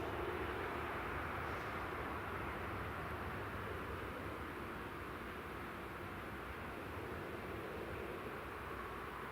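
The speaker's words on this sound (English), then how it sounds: "here's the Ryanair 737 MAX coming all the way from good old Ireland" A Ryanair Boeing 737 MAX arriving at an airport gives off a steady, broad jet roar that holds at a constant distance for the whole stretch, faint and hissy with no distinct peaks.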